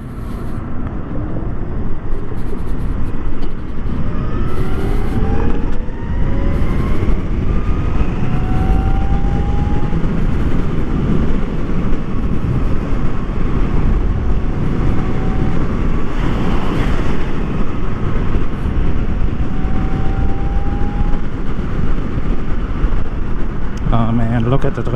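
A 2022 Zero FXE electric motorcycle rides along under heavy wind buffeting, a faint rising motor whine sweeping up and down through the roar as it accelerates.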